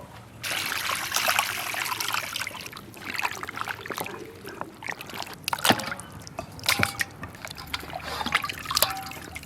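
Tap water splashes and trickles over chopped beef ribs as they are washed clean in a basin, a continuous close sloshing with intermittent clinks and knocks of the ribs against the bowl.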